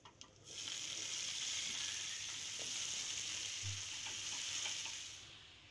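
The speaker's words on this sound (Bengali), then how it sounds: "তেল দেওয়ার পরে কালো জিরে ফোড়ন দিয়ে এর মধ্যে রসুন থেতো করে, একটা গোটা রসুন থেতো করে দিয়ে দিলাম।" Crushed garlic and nigella seeds frying in hot oil in a pan, a steady bright sizzle rising quickly and holding evenly before tapering off, close by with a few soft stirring knocks and no speech.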